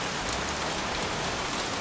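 Steady heavy rain from the video game Heavy Rain, a dense unbroken hiss of drops pouring down evenly for the whole short stretch with no voices over it.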